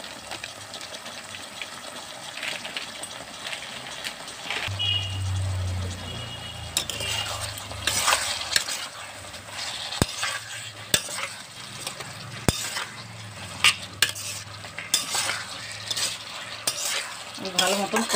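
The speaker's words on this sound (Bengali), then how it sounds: "ভালো মতন কষিয়ে নিচ্ছি।" Spices and ginger paste are sautéed and stirred in a pan, with a continuous sizzle, a brief watery gush early on, and repeated sharp scrapes and knocks of a utensil against the pan.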